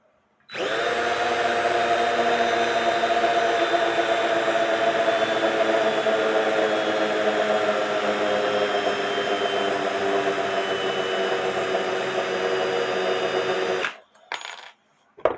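A battery power drill with a worn bit runs nonstop for about thirteen seconds with a steady, grinding whine, then stops, leaving a few faint knocks.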